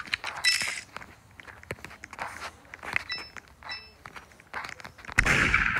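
A gunshot rings out in the Roblox game Murder Mystery 2 as one sharp, loud burst near the end, following a run of lighter game clicks and footstep-like taps.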